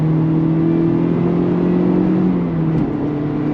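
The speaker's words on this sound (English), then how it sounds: "it really revving out to the red line nicely now" A Mazda MX-5 ND RF engine revs steadily toward the red line with a strong, rising drone as the car accelerates, heard close from inside the car.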